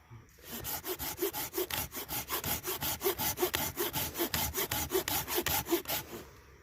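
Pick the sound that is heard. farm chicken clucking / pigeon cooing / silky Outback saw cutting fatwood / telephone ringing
silky Outback saw cutting fatwood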